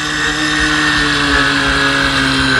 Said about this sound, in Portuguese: o carro acelerando sozinho